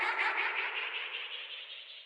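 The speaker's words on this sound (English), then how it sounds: "the first one has Space Designer and delay on it, so I just put a little bit of delay" A beat sound in Logic Pro X treated with Space Designer reverb and delay forms a smeared, echoing wash that slowly decays over two seconds, heard alone without any voice.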